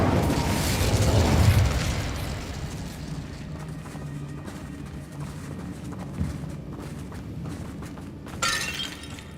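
Incendio fire spell bursting in Hogwarts Legacy on PS5, a loud whooshing flare with shattering crackle at the start, fading into quieter combat rumble and a few later hits.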